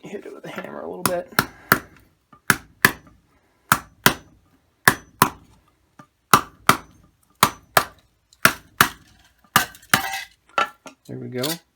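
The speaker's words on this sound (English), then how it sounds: "Hit it with a hammer a little bit." A hammer taps sharply on a weighted silver candlestick around twenty times in an uneven rhythm, each strike ringing briefly and bright, close by.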